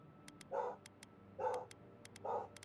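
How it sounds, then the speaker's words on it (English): A dog in the video game Avowed barks three times at an even pace, soft and fairly distant, with faint clicks between barks. "it looks like the dog's gonna start barking"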